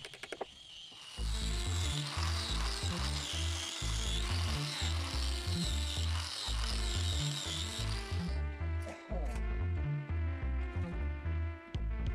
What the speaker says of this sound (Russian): забиваем деревянные шканты и стачиваем их болгаркой